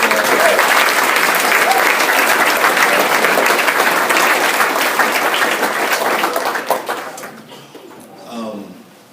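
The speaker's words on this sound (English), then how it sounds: "Fellas, let's go ahead and get a round of applause." A boys basketball banquet audience breaks into loud, sustained applause, dense clapping and some chuckles filling the room for about seven seconds before fading out, followed by a brief murmur of voices.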